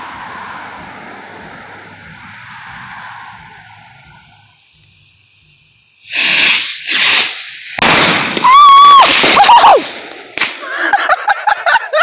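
New Year's fireworks and firecrackers exploding outdoors at a family gathering: after a quieter stretch, a burst of loud sharp bangs, crackles and whistling rockets erupts in quick irregular succession, close by.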